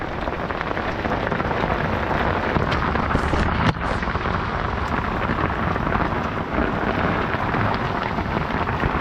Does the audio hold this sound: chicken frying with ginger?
no